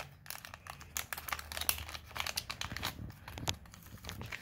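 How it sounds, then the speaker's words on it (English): Nail strip packaging being opened for a Color Street nail polish manicure gives close, busy crinkling and tearing of foil and plastic, a dense run of small crackles with no talking. "Then you are going to open up your strips, your beautiful, beautiful nail strips"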